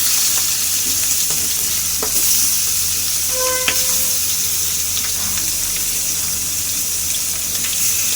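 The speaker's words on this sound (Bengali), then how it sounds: "আগে যেগুলো মাছ ভাজবো তরকারিতে দেবো সেই মাছগুলো আগে দিই, কারণ একটু করে ভাজবো" Fish pieces marinated with turmeric, chili and salt fry in hot oil, a loud steady close sizzle lasting throughout, with a few faint clinks and taps over it.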